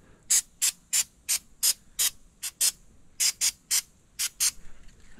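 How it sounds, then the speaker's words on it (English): A dozen short, sharp aerosol bursts of corrosion inhibitor sprayed onto a Suzuki outboard, close up, fired in a quick uneven rhythm with brief quiet gaps between them. "Spray everything that I can get to."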